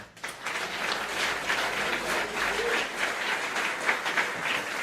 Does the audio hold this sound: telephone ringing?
no